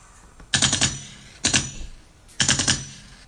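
Three bursts of rapid gunfire, each a tight cluster of sharp cracks, loud and close with brief gaps between them.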